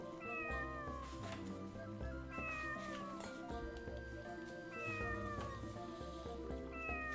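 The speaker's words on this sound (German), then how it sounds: "Katze!" A cat meows repeatedly in drawn-out, wavering cries, several in a row over a steady background, fairly faint, in the video game Tales of the Abyss.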